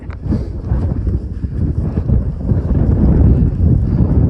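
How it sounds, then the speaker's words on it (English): Strong wind buffets the microphone on an open fell near Blencathra, a loud continuous low rumble that swells slightly louder toward the end, with no voices. "Ideally we want to be getting set up before this wind comes back out."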